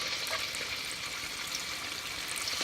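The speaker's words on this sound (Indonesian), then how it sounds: "Ayamnya ini kita akan goreng dengan 2 kali gorengnya guys" Chicken pieces frying in hot, slightly foamy oil reused from frying tempeh, the first of two fryings for crispy fried chicken; a soft, steady sizzle and crackle heard alone.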